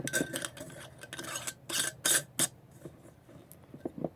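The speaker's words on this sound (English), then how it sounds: "Put your lid on." Clinking and clattering of a lid being fitted onto a glass sprouting jar of seeds, a few sharp taps and rattles close by, with quieter handling noises between them.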